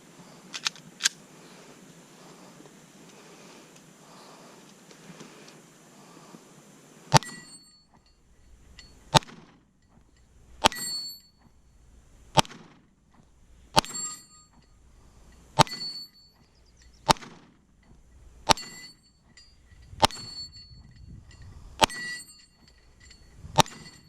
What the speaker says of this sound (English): So I'm going to do a little shooting right now.